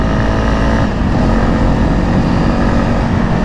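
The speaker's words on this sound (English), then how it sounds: "Let me put 6th gear with 60 kilometers per hour, twist the throttle uphill, and it works" A Honda CRF 300 motorcycle in sixth gear at about 60 km/h, throttle twisted while climbing uphill, gives a steady, loud, close engine drone with wind rush and no voices.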